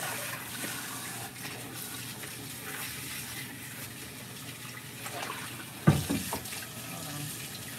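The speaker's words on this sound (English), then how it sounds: "So let me wash my hands" A kitchen tap runs steadily while hands are washed under it, a constant hissing flow with a brief louder splash near the end.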